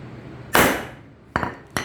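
A 2.5 pound hammer hits coated glass: one loud, ringing impact, then two sharper, shorter strikes close together, each leaving a brief glassy ring in a quiet room.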